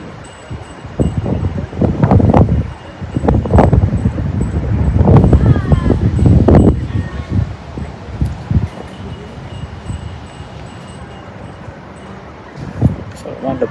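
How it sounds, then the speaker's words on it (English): Gusty westerly wind on an outdoor bowls green, buffeting the microphone in loud rumbling bursts during the first seven seconds, then easing to a steadier rush, with voices talking intermittently over it. "Gusty westerly blowing."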